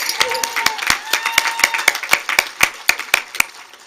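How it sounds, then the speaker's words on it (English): Sharp, fairly close claps at a high school graduation ceremony, a quick run of distinct hand strikes over a thinner crowd applause, with some cheering voices mixed in. "round of applause for Victor real quick"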